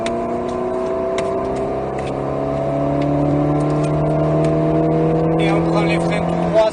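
An Alpine A110S with 292 hp accelerates at full throttle on the Nogaro competition circuit, its engine note rising steadily through the revs as a loud, close in-car whine, with a voice talking over it.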